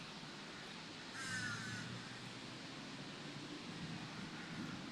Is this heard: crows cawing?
yes